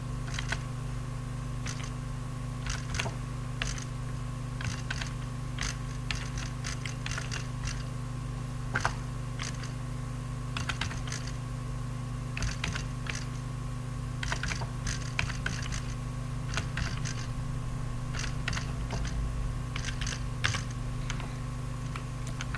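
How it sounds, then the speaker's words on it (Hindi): Steady typing on a computer keyboard while entering text in MS Word, a continuous run of quick, light key clicks with occasional louder taps, close and fairly quiet over a low electrical hum, with no voice. "इधर आके इसी तरह से टाइप करते जाएं आप।"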